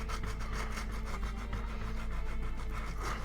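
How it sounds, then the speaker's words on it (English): A file rasps back and forth over varnished wood, guided along a ruler, in quick regular close strokes that scrape continuously, with no voices. "I'm just going to put the ruler there just to guide the file."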